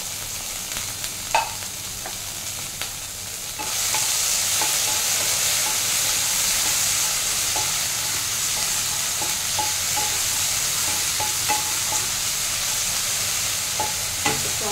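Prawns sizzle and crackle in hot oil in a pan for fried rice, a steady hissing fry that grows louder partway through with occasional pops and utensil taps, no talk.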